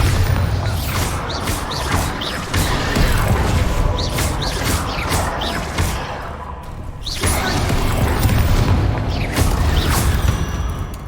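Spell blasts from Hogwarts Legacy, the Bombarda blasting charm going off in heavy booming explosions with crashing debris and mechanical rattles, loud and close, with a couple of strong surges across the stretch.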